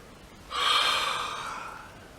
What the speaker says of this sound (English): I keep yawning because I'm relaxing.